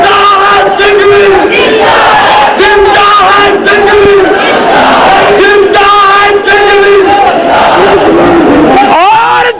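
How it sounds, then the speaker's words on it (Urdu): Large crowd at a funeral procession chanting slogans loudly in unison, loud throughout with repeated rhythmic call-and-response bursts and shouting voices. "نعرہ مل کے زور سے لاؤ، ذرا مل کے نعرہ لاؤ۔"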